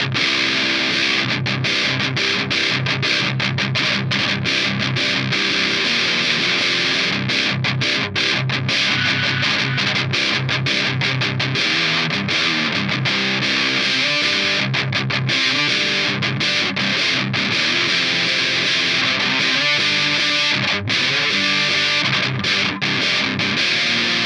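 An electric guitar plays through a ProCo Roadkrill distortion pedal, loud and saturated, with sustained fuzzy chords broken by choppy rhythmic strumming throughout, no voice.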